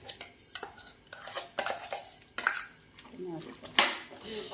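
Ground chickpeas are stirred into a kadala curry in a pan, giving a series of close scraping and clinking spoon-on-metal sounds in irregular bursts, with a voice talking underneath.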